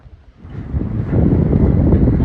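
Gusty hot wind in Kuwait rumbles against the microphone, rising from near quiet to a strong, steady roar with no voices.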